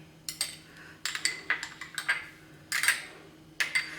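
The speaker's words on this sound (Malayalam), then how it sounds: "ഇത് രണ്ടും കൂടി ഞാൻ ഒന്ന് മിക്സ് ചെയ്ത് വയ്ക്കുകയാണ്" Spoon clinking against a bowl while stirring chili sauce and soy sauce together, in bursts of sharp, close taps with short pauses between them.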